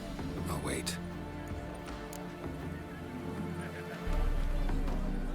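A horse in The Witcher 3 whinnies and clip-clops on hooves within a busy Novigrad street scene, over low music and ambient game sound, with people talking nearby and a louder low rumble rising near the end.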